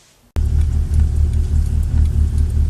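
A Honda Integra fitted with new coilovers drives along back roads, its engine and road noise a steady loud rumble that starts abruptly after a brief quiet moment and holds throughout.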